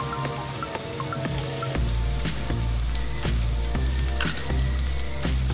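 Asafoetida and green chillies sizzle in hot oil in a pan, a steady loud crackle with sharp pops and spits scattered throughout, no talking over it.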